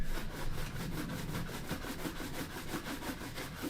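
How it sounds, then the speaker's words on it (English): Steady back-and-forth rubbing of a buffing brush across a leather shoe, a rhythmic scratchy swishing repeated many times at close range, with no talking. "I do like to take the buffing brush"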